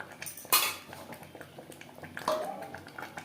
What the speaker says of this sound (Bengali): মাটনের সাথে পেঁয়াজ রসুন বেশ ভালো করে মিক্স করে দেবো